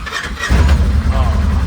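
A Polaris RZR side-by-side, kept on a trickle charger for a weak battery, cranks and catches, settling into a loud, steady low engine rumble close by after a brief quiet lead-in.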